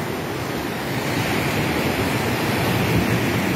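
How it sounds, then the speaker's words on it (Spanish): An overflowing river in flood rushes with a loud, continuous broadband roar, close and steady throughout, with no voices. "El río está desbordado."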